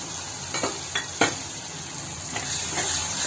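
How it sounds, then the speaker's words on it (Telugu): Tomato and turmeric masala for fish curry fries in a pan with a steady hiss. A few close scrapes and clinks of a spoon stirring the pan cut through the sizzle. "ఇది పచ్చవాసన పోయిన వరకు బాగా వేగించాలి"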